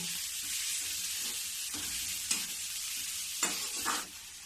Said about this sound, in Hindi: अब इसको भी धीमी गैस में ही थोड़ी देर भूनूंगी